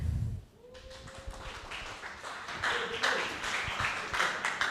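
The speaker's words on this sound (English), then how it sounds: "So please give a big applause to ShopeeGram." Clapping rises from a startup event audience welcoming a presenter, starting after a brief low thump and thin tone, building into scattered, then fuller applause from a moderately sized crowd.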